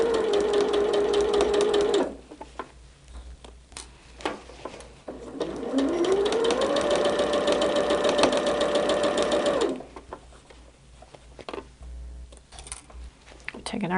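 A sewing machine stitches quilt blocks in close, whirring bursts with a rising motor hum, stopping and starting in between, with quiet handling noises during the pauses.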